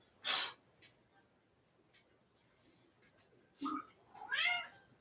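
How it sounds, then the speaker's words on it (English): A house cat meows a couple of times, one short cry at the start and a longer, rising meow later, fairly close, with quiet room sound between the calls. "What you meowing about?"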